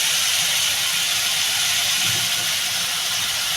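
Coriander and cumin powder fry in hot oil for a tengra fish curry, giving a loud, even hiss that holds steady throughout with no voices.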